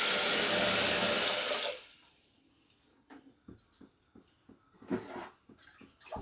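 Water gushing loudly into a pressure cooker holding horse gram for a couple of seconds, then stopping, followed by quiet clinks and taps.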